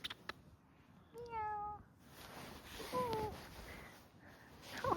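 A cat meows a few times, short rising and falling cries spread across the clip, with rustling and light background noise between them.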